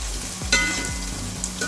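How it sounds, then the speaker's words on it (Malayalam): Cauliflower gobi 65 pieces double-frying in hot oil over a high flame give a steady soft sizzle throughout, with a few brief clinks and stirring scrapes on top. "ഒറ്റ തവണ വറുക്കുന്നതിനേക്കാളും ഡബിൾ ഫ്രൈ ചെയ്യുവാണെങ്കിൽ നല്ല ക്രിസ്പി ആയിരിക്കും"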